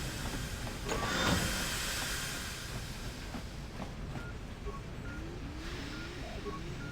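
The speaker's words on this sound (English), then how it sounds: "deactivate the steam vents." Steam vents in the Star Wars KOTOR video game hiss in a steady broadband wash with a brief louder burst early on, while mechanical whirs and small electronic chirps sit beneath it.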